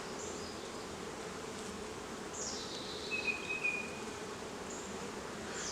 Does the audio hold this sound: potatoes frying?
no